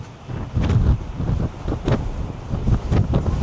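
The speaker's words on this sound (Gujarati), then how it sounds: "બહુ જ પવન છે. તમે થોડુંક માઇકમાં મે બી સંભળાતું હશે." Strong wind buffets a microphone on a balcony in London, producing loud, rumbling low gusts that swell and ease in uneven surges.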